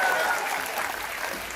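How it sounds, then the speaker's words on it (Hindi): Audience applause at a Hindi comedy poetry show (hasya kavi sammelan) held for Holi: a brief, dense wash of clapping from the crowd, steady and fairly loud throughout, with no speech over it. "जोरदार तालियां होनी चाहिए।"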